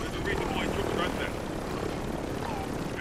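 A video game helicopter's rotor whirs steadily at low volume, with people talking over it throughout.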